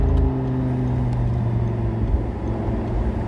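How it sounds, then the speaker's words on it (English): An Audi R8 GT V10 fitted with a Milltek Race exhaust cruises with the roof down at 30 to 40 mph, giving a steady, deep engine drone and a low exhaust rumble mixed with wind noise, loud and close. "the sound that you get from the exhaust when the roof is down is just, it's something special"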